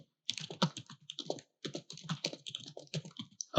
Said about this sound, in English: what I need to do is just type the email address